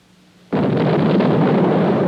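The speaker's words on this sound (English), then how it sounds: "An electromechanical malfunction caused the second stage to ignite prematurely while still in the silo." Minuteman missile second stage igniting prematurely inside its silo: a sudden loud blast after a short quiet lead-in, then a dense, sustained roaring rumble that continues steadily to the end.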